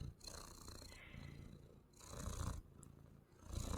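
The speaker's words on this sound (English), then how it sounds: "Do you guys want to hear Peach's purr?" A cat named Peach purrs on a lap, a soft close rumble rising and falling in rhythmic waves with each breath.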